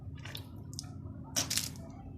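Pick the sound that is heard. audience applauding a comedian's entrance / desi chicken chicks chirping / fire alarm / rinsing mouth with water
rinsing mouth with water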